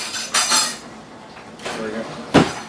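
Metal cutlery clinks and rattles in bursts while someone rummages through a kitchen drawer for a teaspoon, close and fairly quiet, with a sharper clatter near the end.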